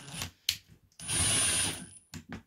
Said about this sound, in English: if you just overdo it with the screw gun, you're going to strip out your screws really easily